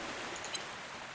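Steady soft hiss of rain falling in a farming video game, a constant even wash with a faint tinkle partway through, heard alone without talk.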